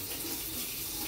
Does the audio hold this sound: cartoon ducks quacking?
no